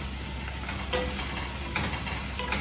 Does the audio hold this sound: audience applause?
no